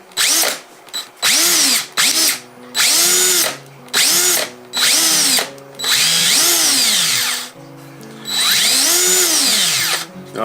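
A new DeWalt drill from a driver combo kit whirs in repeated bursts, each trigger release winding down with a clanky, ratcheting rattle; loud and close, with short pauses between runs.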